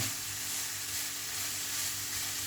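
Chicken fried rice sizzles steadily in a hot pan while being mixed, a loud, continuous frying hiss with a low rumble beneath and no talk.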